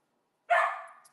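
A puppy gives a single short, high bark that trails off into a whiny tail, loud and close in an otherwise quiet room.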